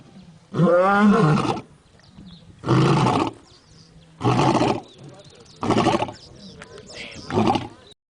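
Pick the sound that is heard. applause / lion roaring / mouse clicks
lion roaring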